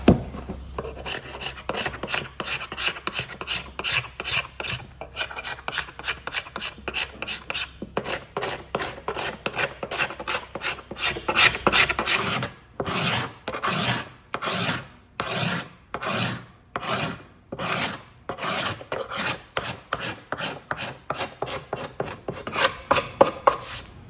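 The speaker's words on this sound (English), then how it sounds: "on this one, I'm gonna scrape because this is raw wood here" A scraper drags paint off a raw wood chair seat in rhythmic rasping strokes, close and fairly loud, which grow slower and more spaced in the second half.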